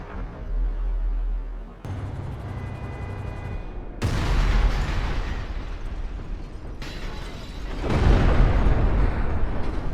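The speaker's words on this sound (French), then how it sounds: "l'explosion fait carrément la taille du centre-ville de Los Santos" Deep, rumbling booms from a Tsar Bomba-sized nuclear bomb in GTA 5 roll through in several waves, each surge a massive low roar that swells and sustains.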